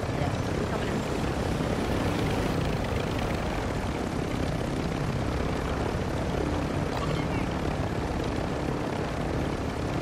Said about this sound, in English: I'm just gonna yeet the heli